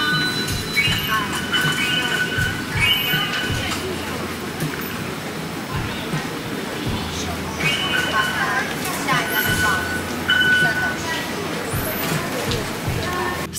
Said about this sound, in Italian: Anche a Taipei le persone aspettano religiosamente in coda l'arrivo della metro.